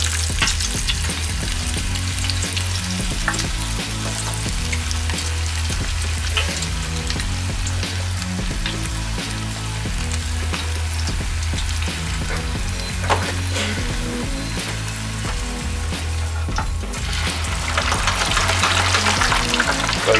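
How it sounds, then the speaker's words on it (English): Steak fries bubbling in a deep fryer, a loud continuous crackling fry with dense popping that holds steady throughout and swells near the end, close by with no voices. "I'm going to go over to the deep fryer, which we've already got ready."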